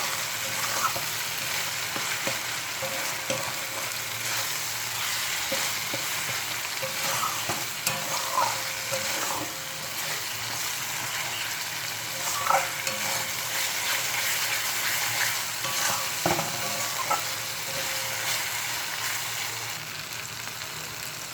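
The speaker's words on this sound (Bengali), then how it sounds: "আমি আরও ভালো করে একটু কষে নেব।" Spice paste is sautéed in oil for a jackfruit and prawn curry, giving a continuous soft sizzle with scattered spoon scrapes and clinks against the pot, close and fairly quiet throughout.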